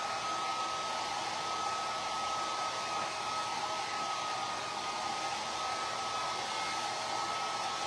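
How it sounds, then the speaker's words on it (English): A hair dryer set on low blows a steady, even whir with a faint high tone, drying an inked tee shirt, continuous and close with no talking. "just use a hair dryer on low and it will dry it"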